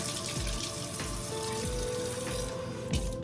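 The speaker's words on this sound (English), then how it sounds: "I might add, since I use butter, a little bit of cold water" Cold water running from a tap into a bowl of blueberry scone dough made with butter, a steady close splashing flow lasting the whole moment with a few soft knocks, no talking.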